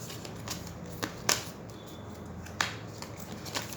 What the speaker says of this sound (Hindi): मैं इंट्यूटिवली कार्ड्स निकालूंगी